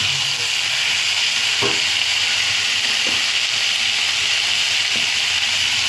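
Chicken curry sizzles and fries in a pan on the stove, a constant close hiss with a few faint clicks of utensils, no voices.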